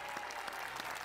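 Brief burst of studio audience applause on a Greek quiz show, faint and distant, a quick wash of clapping with a few sharper claps standing out.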